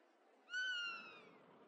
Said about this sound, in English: There's just an excess of cats!